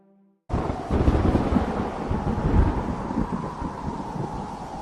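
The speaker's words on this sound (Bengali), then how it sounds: "কি জোরে বাতাস বইছে" A Kal Baishakhi thunderstorm with strong wind bursts in after a brief quiet moment as a loud, roaring, gusting rush with low rumbling, then continues steadily without voices.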